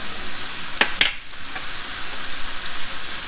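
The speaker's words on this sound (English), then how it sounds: "now I'm going to add the noodles" Noodles tossed into a wok of softened vegetables, a steady close sizzle of frying with a couple of sharp metallic scrapes or clanks early on, then a continuous crackling hiss.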